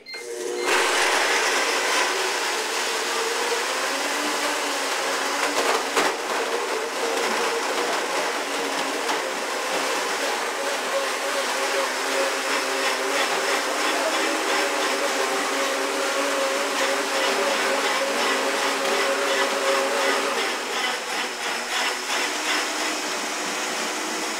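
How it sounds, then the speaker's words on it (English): Blendtec and Vitamix blenders running together on refrigerated vegetables, a loud steady motor whine with dense grinding that holds nearly unbroken for over twenty seconds, shifting slightly in pitch as the contents liquefy. "So let's get our blenders ready."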